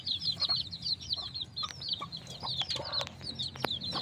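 Several chickens, young roosters fighting, cluck and squawk in a run of short, bright calls at close range, with scuffling and thuds scattered among them.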